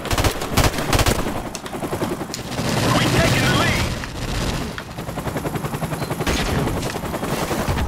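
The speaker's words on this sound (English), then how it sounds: "I got shot in the back with a shotgun" Rapid gunfire bursts in the Call of Duty Modern Warfare Remastered video game, loud repeated shots in dense volleys with booms, while players talk over the action.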